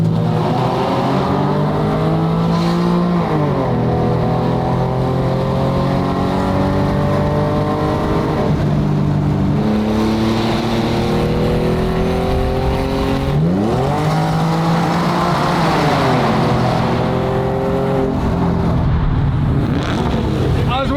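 A Porsche 997-generation 911 sports car drives hard, its engine revving up through repeated rising sweeps and dropping back between gears, loud and close with wind noise throughout.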